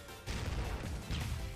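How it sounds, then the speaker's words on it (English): A flashbang grenade detonates in the shooter game Critical Ops, a sudden loud burst followed by a dense, roaring ringing wash that sustains for over a second with a brief dip before swelling again. "Flashbang!"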